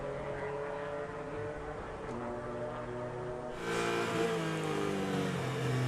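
Race cars at the finish of an Atlanta SpeedTour IGT and SVRA GT race roar past as a steady, loud engine drone, swelling sharply in volume midway as more cars rush close by.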